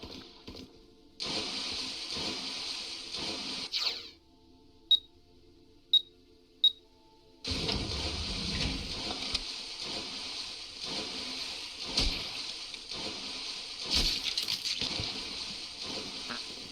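Water sprays in the video game Heaven Dust 2 give a loud, steady hiss in two long bursts. A few short clicks sound in the quieter gap between them.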